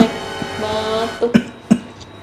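A person coughs close by at a home snack table, two or three short, sharp coughs following a low murmur.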